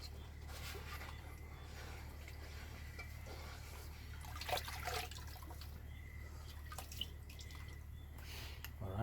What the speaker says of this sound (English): what I actually need to do is just gonna rinse this a bit.